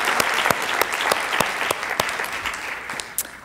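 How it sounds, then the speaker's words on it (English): Audience applause for a closing keynote speaker at a lecture event: a dense, steady wash of clapping with a few sharper individual claps popping out, sustained for the whole stretch. "Can we have another round of applause for our closing keynote"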